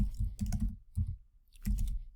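Clicky computer keyboard typing while Java code is entered, arriving in three short bursts of rapid keystrokes separated by brief pauses, close and fairly clear with no talking.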